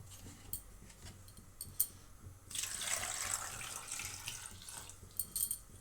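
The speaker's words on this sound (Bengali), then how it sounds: "জলটা দিয়ে দিলাম।" Water poured from a tap or vessel into a pressure cooker holding whole potatoes, a steady splashing gush lasting a few seconds, close and moderately loud after soft clinks.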